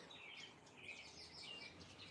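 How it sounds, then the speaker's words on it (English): Birds singing outdoors in early spring, several high chirps and short trills repeating faintly at a distance over a soft, steady background hiss. "Birds are singing."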